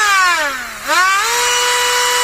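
A Ryobi cordless rotary tool runs flat out at full speed with a loud, steady high-pitched whine that briefly dips in pitch and then climbs back to a constant tone.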